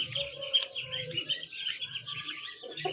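Young ducklings at a village home make high, rapid chirps and peeps that carry on continuously at close range, mixed with a few lower notes.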